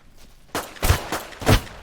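Gunfire in the DeadSide survival shooter game: three heavy, booming shotgun-like blasts spaced about a third of a second apart, close and loud.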